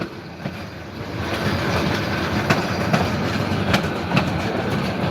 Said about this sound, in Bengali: এই যে মিনি ট্রেন আছে আমাদের জন্য